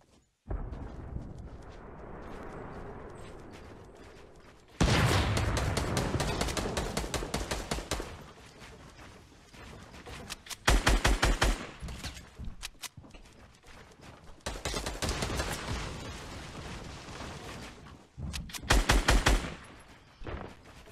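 Bursts of rapid automatic gunfire in Fortnite, loud dense volleys of shots with short single cracks between them, separated by quieter stretches of game ambience.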